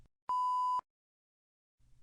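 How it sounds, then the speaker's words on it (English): A single clean electronic beep, about half a second long, from an exam station start buzzer, sounds alone in near silence, followed by a faint low rumble. "always wait for the start buzzer before beginning a station"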